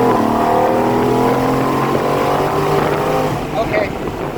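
Ford F150 Cobra Jet pickup engine revving hard on rollers, a loud sustained roar with steady tonal harmonics lasting a few seconds, then easing off.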